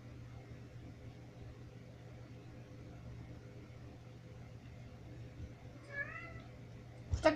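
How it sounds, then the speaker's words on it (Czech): A cat meows faintly twice near the end, thin rising calls over a quiet, steady low hum, with a soft knock at the very close. "Ta kočka zase mňouká, slyšíte to?"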